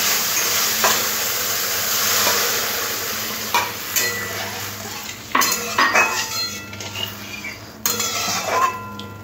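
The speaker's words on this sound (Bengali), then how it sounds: "আর মশলা ধোয়া জলটা দিয়ে মশলাটাকে একটু হালকা কষে নেব" Spice paste with Kashmiri chilli powder stir-fried in a pan, a soft sizzle broken by several sharp clinks and scrapes of a utensil against the metal.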